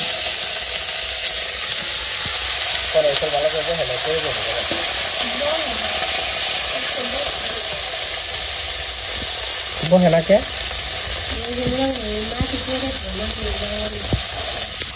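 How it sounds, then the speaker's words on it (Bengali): Vegetables frying in hot oil with cumin and radhuni, a loud, continuous close sizzle and hiss with stirring scrapes, while a voice talks intermittently over it. "তেল গরম হয়ে গেছিল, জিরা রাঁধুনি সব দিয়ে দিছি আর সবজি দিয়ে দিছি"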